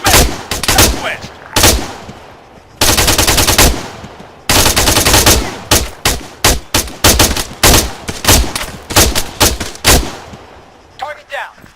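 Rapid gunfire in the video game Arma 3: loud machine-gun bursts and single shots in close, repeated volleys with brief gaps between, mixed with faint shouted commands.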